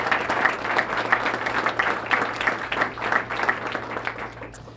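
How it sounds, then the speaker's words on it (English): Sustained audience applause for three men at a jobs announcement in Baton Rouge, Louisiana: dense, steady clapping from a crowd filling the whole stretch, fairly loud and even, with a low hum underneath. "Let's give these 3 men a great round of applause."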